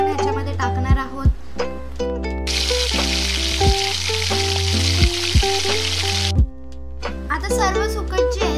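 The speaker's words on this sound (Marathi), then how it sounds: "आपण जी सुकट धुतलेली ती आपण ह्याच्यामध्ये टाकणार आहोत।" Washed dried fish dropped into a hot pan, setting off a loud, close hiss that lasts about four seconds, with music playing before and after.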